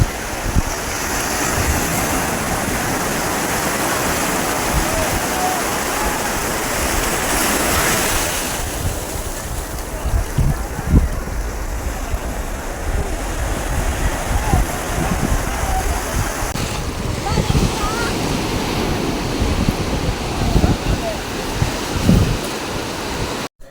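Sea waves break on the shore in a loud, continuous roar of surf with gusts of wind buffeting the microphone, steady and close throughout.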